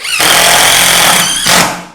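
An impact driver fitted with a bit drives a screw into pine wood, a loud, close, rapid hammering rattle for over a second, a brief dip, then a second short burst before it stops.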